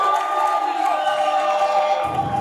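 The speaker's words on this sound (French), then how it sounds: "On reprend. Allez, on applaudit." An audience at an anniversary gathering cheers and whoops loudly in a brief, sustained burst of crowd noise.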